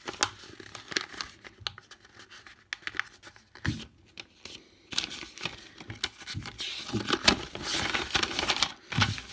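Paper folded into eighths being cut along its folds with scissors to make small cards, heard as a close run of dry snips, rustles and crinkles with brief pauses, no voices.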